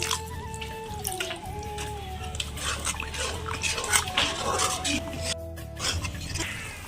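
Water pours into a pan of Kashmiri red chili curry paste frying for pointed gourd curry, a close trickling and sizzling wash with drips and shifting tones, joined by someone speaking.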